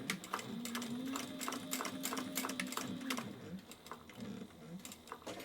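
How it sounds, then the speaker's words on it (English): A sewing machine bastes a phone pocket in place at a narrow seam allowance, quiet and close, a soft motor hum with rapid ticking needle strokes that slows and stutters toward the end. "I'm going to baste it at about 1/8 of an inch seam allowance"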